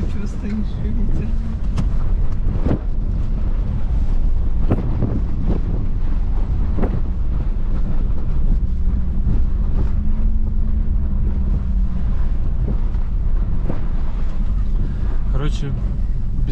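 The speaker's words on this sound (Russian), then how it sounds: "Ветер такой мощный, дерзкий, вообще, молодежный." Strong gusty wind roars across a rocky shore and batters the microphone with a constant heavy low rumble, loud and close throughout, with occasional knocks and faint voices underneath.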